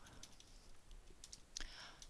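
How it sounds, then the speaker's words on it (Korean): A few faint, scattered key clicks on a computer keyboard while working in Excel, soft taps spread over about two seconds against a low, hissy room background. "다시 탭키 누르시고"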